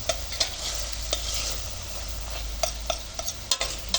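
Chicken liver fries in a pan for a spiced cumin dish while a utensil stirs it. Close, loud scraping strokes come in an irregular rhythm over a constant sizzle.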